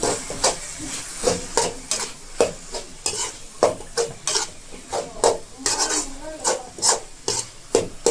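Greens and egg being stirred and fried in a pan for a palya: a steady run of sharp scraping strokes against a sizzling background, close and fairly loud, with no talking.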